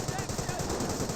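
A Company of Heroes battle has rapid machine-gun fire raking a bunker, a fast rhythmic burst of cracks heard over the game's steady background hum.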